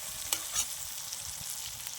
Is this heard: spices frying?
yes